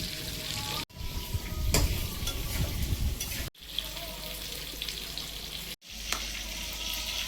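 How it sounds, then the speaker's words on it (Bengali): Eggplant fries in hot oil, giving a continuous bright sizzle with bubbling crackle. The sound is broken by three abrupt cuts into separate segments, each with a steady, fairly close hiss. "বেগুনগুলো ভেজে নেব"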